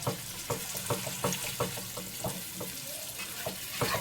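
Paneer, boiled chickpeas and potato stirred together in a hot pan: close, rhythmic scraping strokes about twice a second over a steady sizzle.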